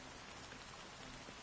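Steady rain falling in Honkai Star Rail, a dense, even hiss of drops spread across the whole moment with no pauses or voices.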